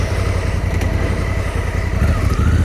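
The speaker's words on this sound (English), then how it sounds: "You can feel that big engine though." Up close, the 1100cc parallel-twin single overhead cam engine of a Honda Africa Twin motorcycle idles loudly with a steady, deep rhythmic thrum that swells slightly near the end.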